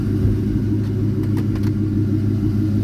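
A 1971 Ford Torino GT Cobra with a 351 four-barrel V8 idles close by with a steady, deep rumble and no speech over it.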